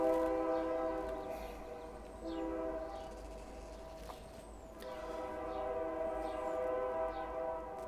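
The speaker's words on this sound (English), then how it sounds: "Yep, here comes the train, as always." A train rolls past with its horn sounding in long, steady blasts, loud and close over a constant rumble of wheels and cars throughout.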